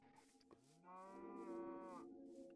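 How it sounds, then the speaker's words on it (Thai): A Minecraft cow lets out a single drawn-out moo, nasal and harmonic, after a brief faint blip, heard alone at moderate distance. "เฮ้ยแมงมุมมันร้องเหมือนวัวเลยว่ะอ๋อมันมีวัวอยู่ข้างนี่ว่า"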